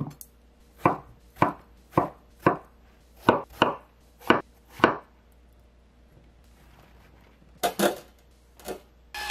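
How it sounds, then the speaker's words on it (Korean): Eggplant and zucchini being chopped with a knife on a cutting board: a steady run of about eight sharp, close knocks, a pause, then a few more cuts. "가지는 애호박과 비슷한 크기로 써세요"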